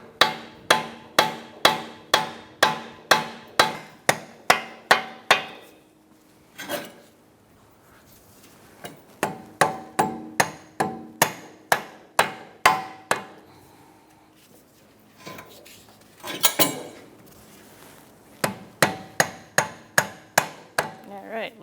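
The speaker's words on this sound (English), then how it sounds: "take a rubber mallet and just tap that CV axle and see if it comes loose" A rubber mallet taps a CV axle on a 2013-2022 Buick Encore in rapid bursts of sharp, evenly spaced knocks, several runs of about a dozen strikes separated by brief pauses, close and loud.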